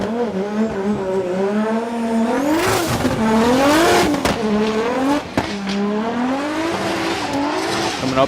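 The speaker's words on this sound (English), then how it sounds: "we have car number 903, Yuichi Amagai with perfect style in his S15 Sylvia" Nissan S15 Silvia drift car in a snowy hillside drift competition, with a loud engine revving up and down through rising and falling pitch sweeps and bursts of tire squeal; commentary runs underneath.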